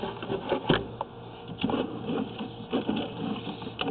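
A drain cleaning machine pulls its cable back through a clay tile sewer line from a backyard cleanout toward the city sewer, giving a steady mechanical whir and rattle with irregular knocks and clunks, close and moderately loud.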